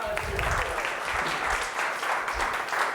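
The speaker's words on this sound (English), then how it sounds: "Round of applause for Sam." An audience claps warmly, a dense patter of many hands that stays lively throughout.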